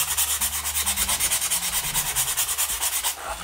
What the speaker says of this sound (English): we're just going to take that and we're just going to sand it down until it's all the same level